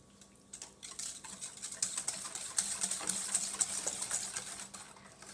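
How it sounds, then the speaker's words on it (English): Wire whisk stirring sifted flour and sugar together in a bowl for vegan chocolate crinkle cookies, a close, quick scratchy clatter that builds and grows louder toward the end. "now I'm going to give this all a good whisk."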